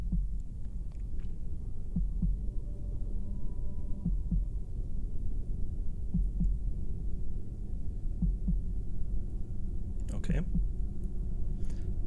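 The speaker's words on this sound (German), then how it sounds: "Das Herzklopfen macht mich schon sehr gespannt" A heartbeat sound effect in the video game Vampires Dawn 3, a slow, steady, low thudding pulse repeating throughout under a droning hum, with faint clicks and a brief scratchy noise near the end.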